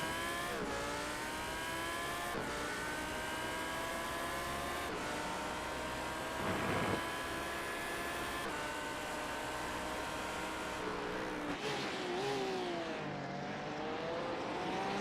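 A GT3 race car engine roars continuously in a sim racing game at the Hockenheimring, with loud revving rising through gears and dipping on downshifts, no voices over it.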